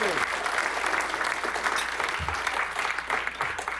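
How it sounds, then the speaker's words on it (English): Guests at a charity awards event applaud the sponsors, a sustained, crowded round of clapping with a few scattered voices and some low thumps underneath. "Let's give them a round of applause, all of our sponsors"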